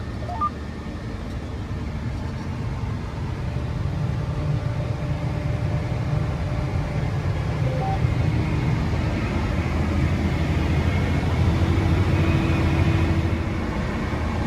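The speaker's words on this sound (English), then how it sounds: "This is a great setup for a planter tractor." A John Deere 8RX 410 tractor drones steadily while planting corn, a continuous low engine rumble heard from inside the cab with no talk.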